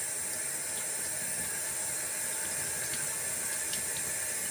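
Tap water runs at a low flow into a sink during glass etching, a steady soft hiss with no talk over it.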